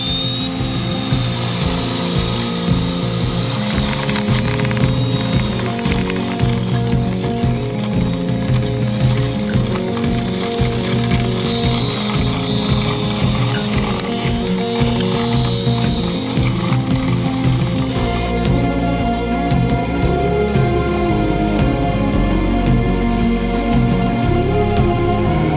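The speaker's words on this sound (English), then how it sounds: "let's cut the grass for the last time." Loud steady motorized whir of a robot lawn mower cutting grass, a continuous buzzing drone that shifts in pitch and roughens toward the end.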